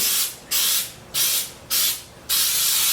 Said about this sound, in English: I have Baker's Joy, which is basically it's baking spray with flour in it